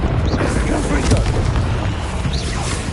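A rumbling blast from the Confringo fire spell in Hogwarts Legacy, a dense boomy roar that spans the whole stretch and sits under overlapping voices and game sounds.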